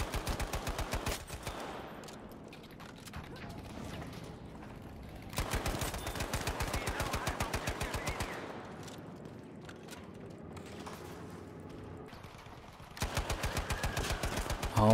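An M3 Grease Gun fires in Battlefield 5 in three long full-auto bursts, with rapid, evenly spaced loud shots and quieter ambient game noise between the bursts.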